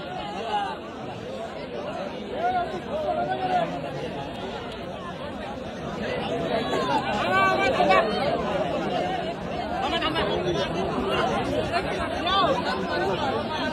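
A crowd at Badlapur station gathered to take photos: steady, dense chatter of many voices, close and lively, growing a little louder partway through.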